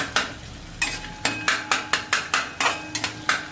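A utensil mashes boiled potatoes in a pan with quick, regular scraping strokes, about three per second, close up with no talking.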